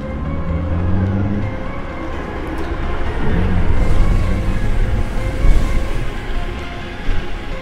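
A Techlife X8 electric scooter in dual-drive third mode accelerating at full throttle on hilly ground, a loud rushing wind and motor rumble that swells and fluctuates, with no talk.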